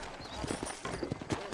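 Horse hooves clip-clop in the western game Red Dead Redemption, a quick, close rhythm of hard hoof strikes over background game ambience.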